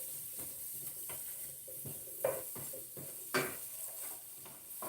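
Potatoes fry and sizzle in a pan during an egg scramble, a steady hiss broken by repeated stirring scrapes and a couple of sharper utensil clanks, with no voices.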